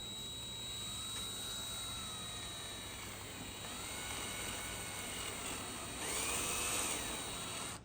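A steady mechanical whine of a drill running slowly on low speed, boring through a 4L80E transmission valve body for a valve repair, constant and fairly close, rising slightly in loudness near the end.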